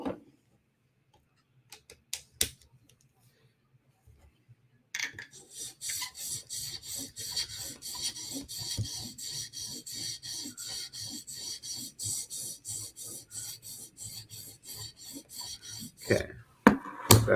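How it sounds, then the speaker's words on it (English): A Spyderco knife blade is drawn across a 400 grit sharpening stone in quick, rhythmic rasping strokes, close and steady for about ten seconds after a few faint taps and a quiet start, with a final couple of louder scrapes. "Now we're going to switch to 400 grit stone."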